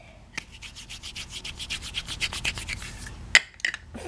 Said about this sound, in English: Here's the soap, just rub it